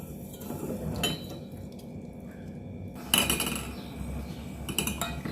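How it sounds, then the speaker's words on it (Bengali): A spoon stirring sugar into water in a vessel to make syrup for a raw mango sorbet: metallic clinks and scrapes in short bursts against the container, close and fairly quiet, with no talking. "চিনিটা না গলা অবধি এটা নাড়তে হবে"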